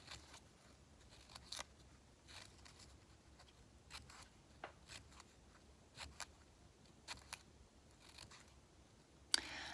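Scissors snip paper feathers in short, quiet, scattered cuts, separate crisp snips spaced a second or so apart against a near-silent background.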